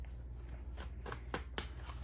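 Tarot cards being shuffled by hand, soft papery riffling and flicks in short bursts, close and quiet, with no talk.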